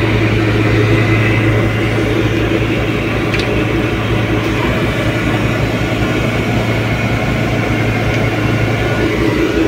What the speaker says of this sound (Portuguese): Vou deixar ligado um pouquinho e tirar aqui para ver se ele vai assumir uma lenta